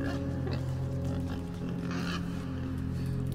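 A pig in the video game INSIDE, grunting and squealing close by in a few short oinking bursts over a low steady hum.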